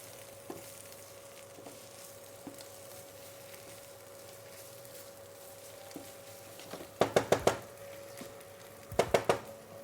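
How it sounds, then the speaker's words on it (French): Onions fry and colour in a pan for a French onion soup-style mac and cheese, with a low, steady sizzle underneath and two short bursts of utensil clatter against the pan near the end. "On revient sur nos oignons qui commencent à colorer."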